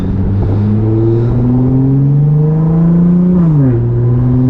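An Audi S4 with 430 hp and all-wheel drive revs hard in manual mode with its 7-speed DSG, the engine note climbing steadily, then dropping sharply at a shift before pulling again, loud and close with no talking.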